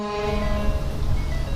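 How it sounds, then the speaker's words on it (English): Two Grover stutter tone air horns on a Darley Max-Quick Attack fire truck sound together as a loud, steady, layered horn blast that holds for the whole moment with no voices over it. "There's 2 Grover stutter tone air horns."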